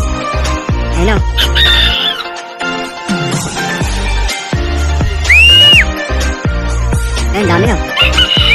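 Loud, close chickens clucking and squawking continuously, with a rooster-like crow and high whistling calls among the flock.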